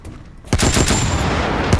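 Pancor Jackhammer automatic shotgun in Fallout 4 opens up after a quiet moment, a loud dense burst of rapid blasts continuing to the end with another sharp shot near the close.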